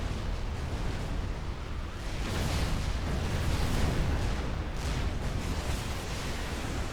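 Rocket explosions slam against a shield in the real-time strategy game Supreme Commander 2, a dense, continuous wash of booming blasts and rumbling impacts that swells slightly in the middle of the battle.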